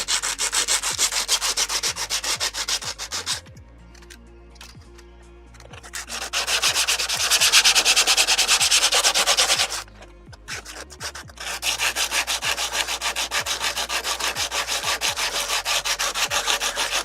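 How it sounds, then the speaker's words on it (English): Rhythmic back-and-forth sanding strokes on a 3D-printed model eagle airplane body, loud and close, pausing twice briefly before resuming the rapid scratchy rubbing. "At the moment I'm just sanding the body structure."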